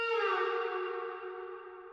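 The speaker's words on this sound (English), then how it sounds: "I've also added this little string glide down effect from Splice" A string sample glides steadily downward in pitch over two seconds, rich in harmonics with an echoing, effected tail that fades gently, heard alone without talk.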